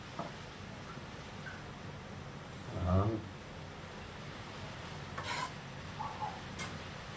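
Taro leaves cooked with pork and plenty of chilies, stirred in a pan, with a faint steady sizzle and a few soft scraping strokes of the utensil, quiet and close.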